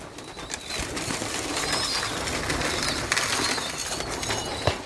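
Hungry pigeons coo in a flock, soft low throaty calls blended into a busy rustling background with occasional sharp knocks and flutters, and no one talking.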